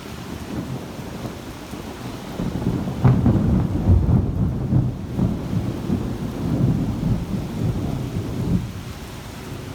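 Heavy rain pours steadily while deep, rolling thunder rumbles loudly through the middle of the storm and then fades back into the constant downpour.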